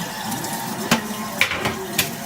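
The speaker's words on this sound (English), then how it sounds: "Then what I do is I wash off the chops." Running tap water splashing in a kitchen sink while pork chops are rinsed one at a time, a steady wash with a few sharp clinks and knocks of handling.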